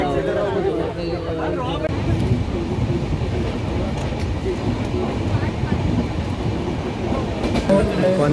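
A train rumbles and clatters steadily at Panvel station, loud and continuous, with crowd babble and voices blending into the dense noise throughout.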